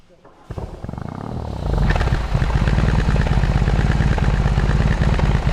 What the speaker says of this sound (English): Start button starts the engine.